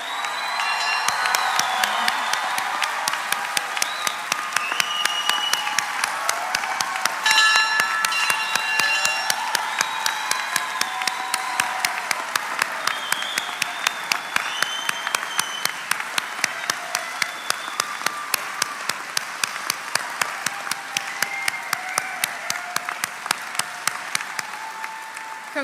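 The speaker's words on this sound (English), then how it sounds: "Let's give our graduates a round of applause." A graduation audience at the Apprentice School Class of 2021 ceremony applauds the graduates, sustained loud clapping with scattered whoops and cheers, some voices mixed in.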